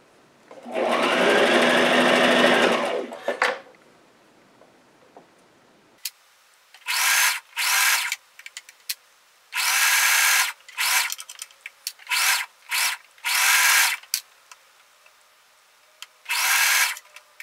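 A sewing machine stitches through three fabric layers of a dress, running in loud whirring bursts of varying length separated by short pauses, with no talking.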